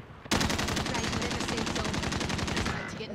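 Rapid automatic enemy gunfire in Call of Duty Warzone bursts in suddenly and rattles on continuously for several seconds, loud and close, then tapers slightly at the end.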